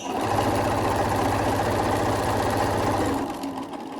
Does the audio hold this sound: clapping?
no